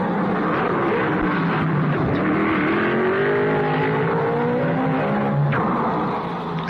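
Racing cars of the 1955 Monaco Grand Prix roar continuously in a close pack, engines whining and shifting pitch as they pass, loud and near with no talk.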